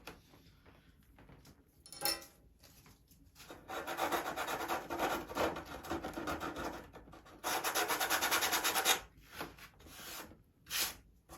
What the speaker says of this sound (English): Just take your sandpaper and feather it in.